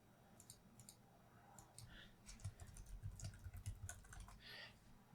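Quick bursts of typing on a computer keyboard while renaming a software component, soft clustered key clicks in short runs, close and fairly quiet against faint room noise.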